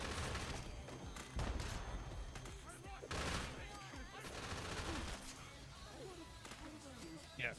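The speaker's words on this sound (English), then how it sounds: "Yeah, minigun shredder is crazy OP." A minigun shredder firing in a video game, a dense sustained rattle of rapid gunfire with heavy thumps, loud and close, running under excited talk throughout.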